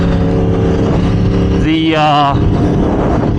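A 2022 Yamaha R1M superbike in power mode 2 pulls hard from 60 to 130 mph, a loud steady engine drone rising with wind roar and a brief warbling surge midway, while a voice speaks briefly.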